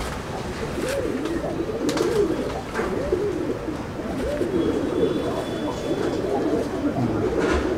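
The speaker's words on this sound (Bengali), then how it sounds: "এটা মাদি পায়রা" Chennai breed pigeons in a loft coo in dense overlapping throaty rolls, several birds close by and continuous, with a few soft flutters among them.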